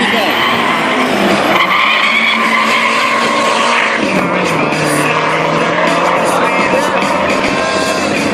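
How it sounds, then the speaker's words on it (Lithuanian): Street car and drag-prepared race car launching side by side at the Drag Days 2014 drag racing event in Kazlų Rūda, with loud continuous engine roar and tyre noise throughout, close and dense without pauses. "Standartinis gatvinis automobilis prieš traukų ruoštą techniką."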